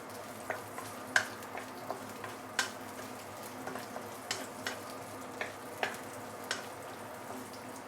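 Dried chili, ginger, garlic and the white part of spring onion sautéing in a pan, a low continuous sizzle dotted with irregular crackles and light stirring clicks, moderately quiet and without speech.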